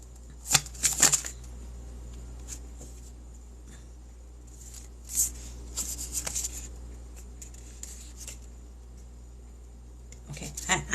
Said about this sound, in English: I was barely shuffling and these came out.